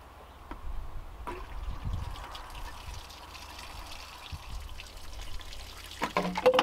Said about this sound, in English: I'm gonna use this to let some of the cold water out the bottom